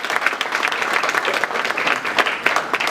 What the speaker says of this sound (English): Let's clap hands for her in absentia.